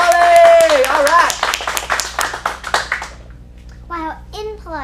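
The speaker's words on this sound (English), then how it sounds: "Let's give her a big round of applause." An audience at a kids' acting showcase claps for a child's performance, a rapid burst of hand claps under an adult's cheering voice, then fading, followed by brief speech.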